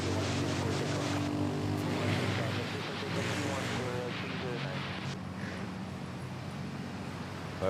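Philippine Airlines Boeing 777 airliner on a domestic flight at Manila Airport, a steady broadband jet roar that swells and slowly fades, with people talking over it.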